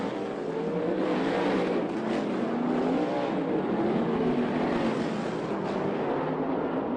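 Sprint cars race on a dirt oval, engines roaring steadily with rising and falling pitch as they bounce through holes in the track; loud, continuous and close, with no talk over it.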